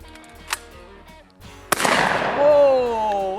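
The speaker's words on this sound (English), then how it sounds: "Whoa, we got a shot off." A shotgun fired during an outdoor trick shot, one sharp loud blast followed by a ringing, fading tail, with a short click shortly before.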